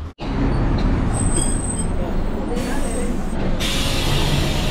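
City bus at a stop in Kyoto, its engine rumbling steadily close by while air brakes hiss and release in bursts, with people talking nearby.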